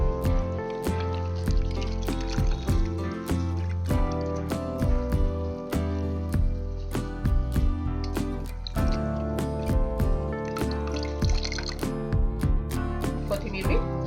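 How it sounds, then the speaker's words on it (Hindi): Green chillies and mint are rinsed in water for a Mughlai pasinde dish, producing close splashes, drips and squishy handling in an irregular rhythm over background music. "अच्छा धो लेंगे।"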